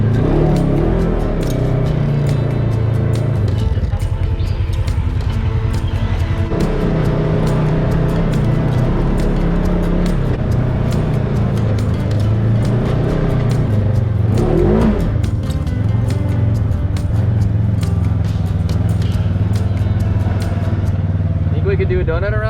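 A car drives steadily with a loud continuous engine drone and road rumble throughout, a few revving swells, while people talk over it.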